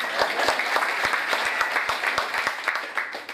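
An audience bursts into applause at a celebration program, dense sustained clapping from many hands with a few sharp individual claps standing out.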